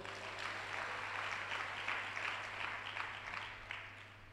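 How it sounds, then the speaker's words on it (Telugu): A church congregation claps at a sermon in Guntur, a soft, fairly distant patter of many hands that swells and fades over a few seconds with no voices over it. "కొట్టు చప్పట్లు."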